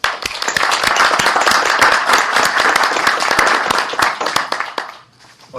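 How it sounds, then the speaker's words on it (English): A round of applause at a utility board meeting: many hands clapping steadily and close for about five seconds, then tapering off into quiet near the end. "So please join me in a round of applause for their efforts"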